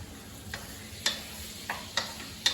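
Food stir-fries in a wok over a steady sizzling hiss, punctuated by four or five sharp metallic clinks of a utensil against the pan at irregular intervals, close and without speech.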